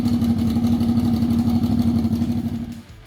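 A 2002-onwards Honda VFR 800 Interceptor V4 motorcycle idles close by with a steady, even burble, then cuts off and fades out near the end.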